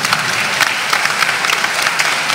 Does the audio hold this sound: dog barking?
no